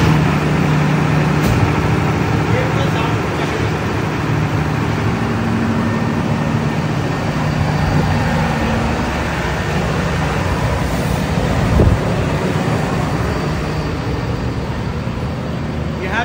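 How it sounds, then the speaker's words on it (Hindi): A 100 kVA soundproof diesel generator set runs with a loud, constant low hum and drone that stays steady throughout, with no voices. "ये साउंड प्रूफ जनरेटर सेट है, noise level under 75 dB eight 10 metre."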